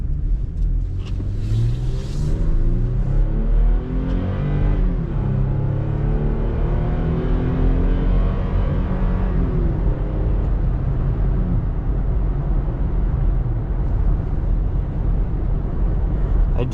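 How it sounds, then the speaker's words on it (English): 2021 Toyota Tacoma TRD Off Road with a 3.5L V6 accelerating hard from the cabin, a loud steady engine drone rising in pitch through the gears with road rumble underneath. "I'm going to turn ECT power on here and accelerate so you guys can see what that's like."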